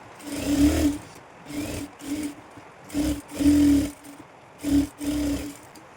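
A sewing machine stitches a blouse piece to its lining cloth in about six short, loud bursts with brief pauses between them.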